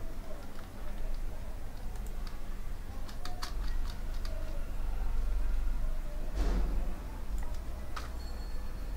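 Numbers typed on a computer keyboard: a few sparse, light keystroke clicks over a steady low hum, with a short burst of taps near the end.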